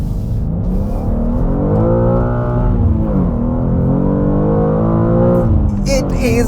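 A BMW M2 engine revs hard, its note rising and falling through several sustained sweeps, loud and close for the whole stretch.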